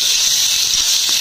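Vegetables tipped into hot oil after frying onions, for a tengra fish curry, give off a steady, loud, even hiss that carries through without a break.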